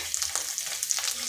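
Two green chillies sizzle in hot oil in a pan for a Bengali puishak and egg dish, a steady close crackle with no one talking.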